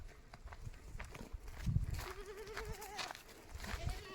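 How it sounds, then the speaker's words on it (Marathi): Goats and a buck on a farm bleat several times in a row, with wavering, nasal cries rising over a rustling, shuffling background. No one speaks. "हे बघा ह्या अशा शेळ्या आहे."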